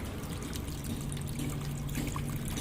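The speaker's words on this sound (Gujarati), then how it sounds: "પાણીના નળ આવ્યા, પાણી આવ્યું છે," Water from a municipal Narmada supply gushes steadily from a freshly opened household tap, a loud, continuous splashing pour with no break.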